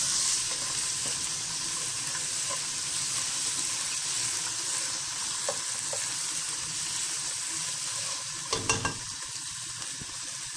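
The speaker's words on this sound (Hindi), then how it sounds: "इसको भी हम फ्राई कर लेते हैं जरा" Ginger garlic paste fries for chicken korma in a pan, a steady close sizzle running throughout, with a few soft stirring scrapes and a cluster of clinks near the end, no talk.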